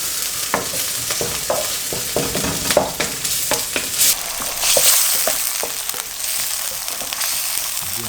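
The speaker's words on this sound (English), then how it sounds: "And I got to keep stirring so that the garlic will not be burnt." Garlic frying in oil in a pan for a Spanish-style green sauce, a constant close sizzle with frequent scraping and clicking of a utensil as it is stirred, fairly loud, with no talk.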